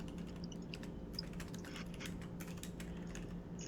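Soft, rapid keystrokes on a computer keyboard, an uneven stream of light clicks heard close and alone over a faint hum.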